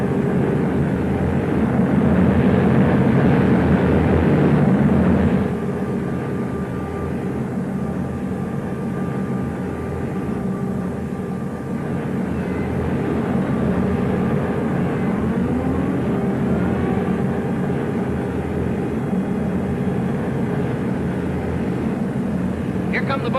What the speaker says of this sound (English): Here come the bombers now. You can probably hear them.